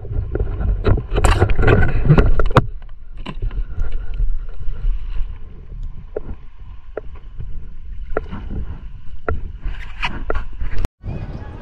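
A small fishing boat moves on the water, with gusty wind buffeting the microphone, intermittent knocks and splashes against the hull, and bursts of louder noise between quieter stretches.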